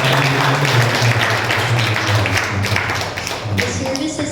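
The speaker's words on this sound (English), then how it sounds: "Let's give God a clap offering." A church congregation claps steadily and warmly at the end of a service, with a voice speaking faintly underneath and the applause thinning slightly near the end.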